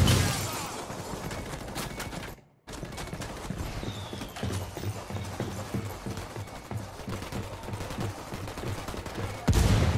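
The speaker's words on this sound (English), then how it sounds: "We've got mortar fire incoming." Rapid bursts of gunfire and thudding impacts in the Ghost Recon Wildlands video game on PS4 Pro, with shots crackling densely throughout, a brief silent gap, then a loud surge at the end.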